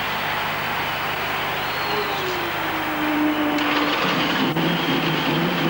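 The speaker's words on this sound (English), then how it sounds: "And now all 26 cars fire their engines." Stock cars at the 1988 Quaker State 500 fire up their engines, a broad roaring drone with rising revs heard from a distance amid crowd noise, swelling louder partway through.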